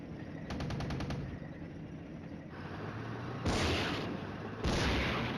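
Bursts of machine-gun fire and heavier booms ring out in the Flashpoint Campaigns: Red Storm wargame as units open up on reconnaissance vehicles. A rapid rattling volley comes first, followed by two louder blasts near the end.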